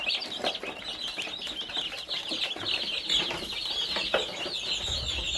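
Hungry meat chickens clucking and calling together at close range, a busy continuous chorus of clucks and chirps with a few wing flaps, no talking.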